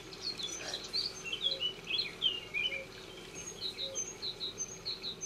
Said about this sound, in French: il m'a semblé entendre des chants d'oiseaux